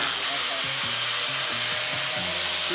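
A power grinder whines in short repeated passes over welded steel window frames, its pitch rising and falling as it bites the metal, loud and close, with no speech.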